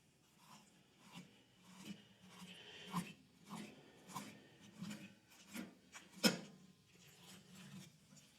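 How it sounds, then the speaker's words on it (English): A knife blade rasps and scrapes in a steady series of short strokes as crappie fillet meat is brushed off the rib cage, close and fairly quiet with no talking. "Now, we're going to just brush the meat off of the rib cage without cutting through the rib cage"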